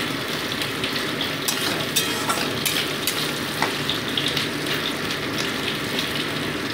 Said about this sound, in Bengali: আদা রসুন বাটাটাকে আগে আমি দিয়ে ভেজে নিচ্ছি